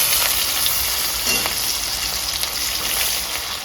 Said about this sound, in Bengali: জিরে ভাজা হয়ে গেছে এবার আমি পেঁয়াজটা দিয়ে দেবো